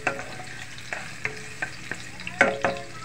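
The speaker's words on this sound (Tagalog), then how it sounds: "Then saute." Garlic sautéing in a pan for seafood noodles, with a soft sizzle under repeated close clinks and scrapes of a spatula stirring in an uneven rhythm, no talk.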